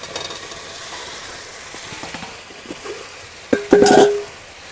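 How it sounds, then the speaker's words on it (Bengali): Fried potatoes drop into a spice paste frying in a pan for an egg and soybean curry, with a low sizzle, scraping stirs, and a louder clatter and hiss near the end. "এবারে এতে ভেজে রাখা আলুগুলো দিয়ে দেবো"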